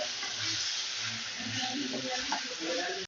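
Spices with turmeric and salt fry in a pan, a soft steady sizzle and hiss with light stirring scrapes, close and fairly quiet.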